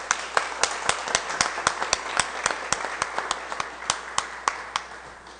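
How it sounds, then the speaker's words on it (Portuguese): Steady, evenly spaced claps ring out one after another at about three per second during an extraordinary council session, following a salute to the national flag, sounding fairly close with little else beneath them. "Uma salva de palmas."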